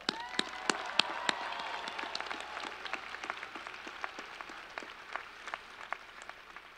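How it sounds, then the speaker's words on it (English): Graduation audience in a stadium applauding the staff, a dense, steady round of clapping from many hands with scattered sharp claps standing out, fairly distant and sustained throughout. "Students, let's give them a round of applause."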